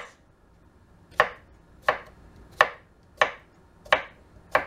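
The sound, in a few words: knife slicing squash into little slices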